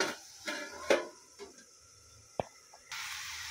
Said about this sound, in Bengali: এবার আমি ঢাকনাটা খুলে দেখি কেমন